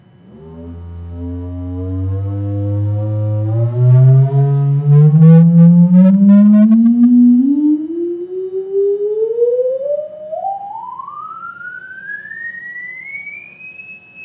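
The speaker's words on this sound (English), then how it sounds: "I'm going to do a little sweep of a sine wave" A pure tone sweeps smoothly upward from a low hum to a high whistle over about fourteen seconds, loud and alone with no other sounds.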